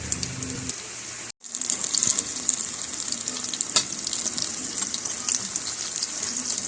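Banana snack frying in hot oil in a pan, a steady loud sizzle and crackle that cuts out briefly, then resumes and continues with small pops.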